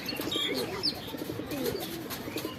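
Pigeons let out onto a rooftop, a courting male among them, keep up a low, continuous cooing and burbling at moderate distance, with a few faint chirps over quiet ambient noise.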